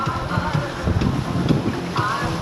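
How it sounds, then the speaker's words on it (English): Wind gust while sailing a boat on the west coast, a steady rushing roar of wind buffeting the microphone over water and hull noise, loud and continuous throughout. "Here comes a gust."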